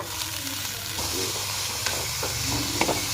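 Coriander, coconut, tamarind, ginger and green chilli sauté in a pan for a chutney, giving a steady close sizzle and hiss broken by occasional stirring scrapes and clinks.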